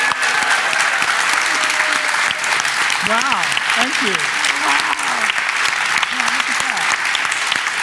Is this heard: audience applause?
yes